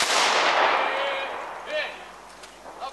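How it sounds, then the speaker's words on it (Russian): A celebratory Victory Day salute volley rings out as one loud, sharp blast with a long echoing decay, followed by fainter distant reports. "салют!"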